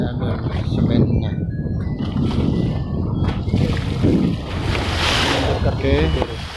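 Strong wind buffeting the microphone alongside big waves at the Holcim Tuban dock, a constant rough roar of surf and gusts, with voices talking intermittently.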